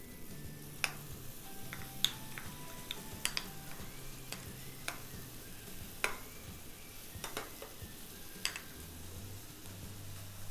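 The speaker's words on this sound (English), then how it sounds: "Make sure we stir it really good to remove any lumps" Sauce for buttermilk roasted chicken being stirred in a pan to work out lumps, soft, steady scraping and swirling under a faint sizzle, with scattered sharp clicks of the utensil against the pan.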